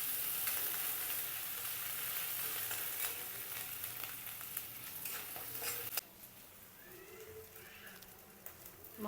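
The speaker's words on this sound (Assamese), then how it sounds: "মই এতিয়া সেইখিনি তেলতে আদা নহৰু আৰু জালুক দি দিছোঁ" Ginger, garlic and jaluk fry in hot oil for a fish curry with elephant foot yam, a dense, steady sizzle that abruptly quietens to a softer crackle for the last few seconds.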